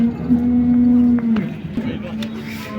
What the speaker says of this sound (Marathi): बाजारातले दुसरे टॉपची गाय आहे बघा